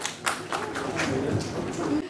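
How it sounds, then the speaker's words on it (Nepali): An audience claps to honor guests at the National Opsana Music & Films Award 2024 ceremony, a dense burst of applause from many hands with a voice faintly underneath. "कृपया जोरदार तालीले सम्मान गरौँ"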